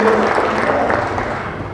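Audience at a theatre production clapping together, a dense, steady wash of applause held at even loudness throughout, with a faint voice or tone briefly under it at the start.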